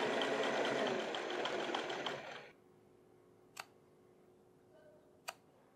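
Sewing machine stitching a buttonhole on a denim jeans waistband, fast close whirring for about two seconds, then stopping with two sharp clicks in the quiet that follows.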